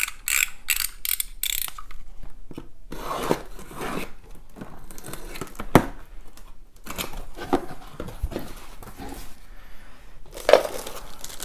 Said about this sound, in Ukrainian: Зараз розпакую і подивлюсь на них вже ближче.